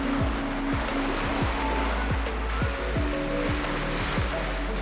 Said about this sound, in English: The ocean is just so calm and perfect.